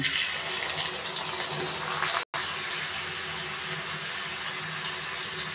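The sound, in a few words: pouring leftover rinse water from mixer bowl into pan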